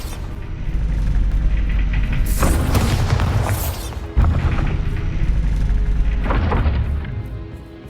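Bombarda spell explosions in the game Hogwarts Legacy: two loud, heavy booms with crashing debris, each followed by a rumbling tail.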